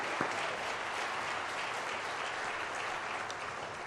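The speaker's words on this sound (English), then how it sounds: "How about a round of applause for our school board?" A school board is applauded by the audience at a Wake County Public School System address, with steady, dense clapping filling the room at an even level for the whole stretch.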